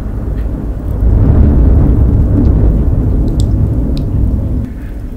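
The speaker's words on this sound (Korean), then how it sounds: "지금 밖에 쿵쿵 소리가 너무 많이 들리고, 천둥 번개도 치고 있어요." Thunder rumbling outside during an evening rainstorm, a deep, sustained low roll that swells after the first second and then fades, with faint rain noise beneath it.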